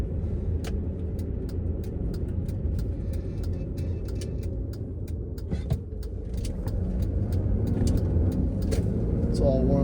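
Warmed-up 2005 Land Rover Freelander with a five-speed gearbox driving on semi-performance street tires, its low engine and road rumble droning steadily inside the cabin, with faint ticking clicks above.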